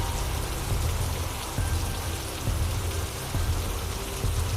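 Steady rain pours down near a river, a dense continuous hiss with low rumbling patter that swells slightly at intervals, with no voices.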